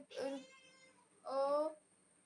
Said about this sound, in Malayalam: എൻ്റെ വീട്ടിലൊരു പൂച്ച സാറുണ്ട്